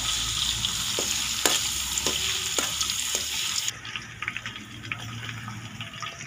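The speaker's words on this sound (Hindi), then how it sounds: "अदरक और लहसुन का पेस्ट जो है वो घी के अंदर शामिल कर दिया गया" Steady sizzling of ginger garlic paste frying in hot ghee, with a few sharp clinks of a spoon stirring the pan.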